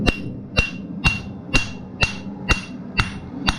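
A blacksmith flattens a 3/8 inch steel bar for a wall mount, eight sharp, ringing hammer blows landing at an even half-second beat, close and loud with no talk.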